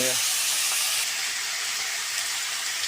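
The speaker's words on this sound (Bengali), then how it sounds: "এবার আলু ভাজি চলে যাচ্ছে ভাজি করার জন্য" Potatoes frying in a pan for a Bengali chicken pulao meal give off a steady, loud hiss of sizzling that runs unbroken throughout, close and alone.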